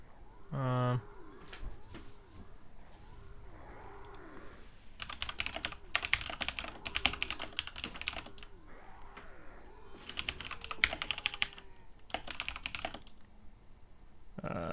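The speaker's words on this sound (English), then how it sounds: "Oh, I am typing." Computer keyboard typing in bursts of rapid clicks, close and moderately loud, with pauses between runs, over faint in-game ambience that includes soft bird cooing during a Project 1999 Dark Elf Necromancer session.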